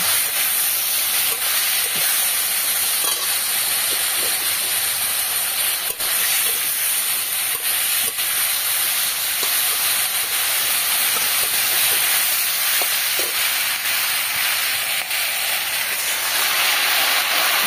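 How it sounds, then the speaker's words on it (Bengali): Spices, green chillies and a splash of water sautéing in a pan for a small fish curry with thankuni leaves, giving a steady, loud broadband hiss and sizzle that runs unbroken throughout with no talking. "কয়েকটা কাঁচা লঙ্কা দিয়ে দিলাম, সামান্য জল দিয়ে আর একটু কষিয়ে নেব"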